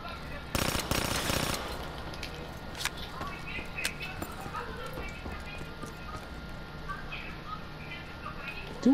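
A short, rapid burst of automatic gunfire rattles early on in a shooter video game, then gives way to a quieter background of scattered distant shots and faint game noise.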